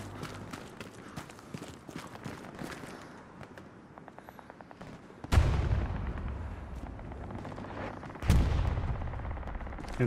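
Mortar blasts and gunfire in the Hell Let Loose battlefield game: scattered rapid shots and crackling fire, then two loud, close, booming explosions that leave a long rumbling wash behind them.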